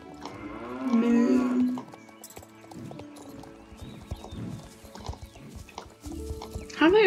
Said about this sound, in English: And the cows. Moo to you too.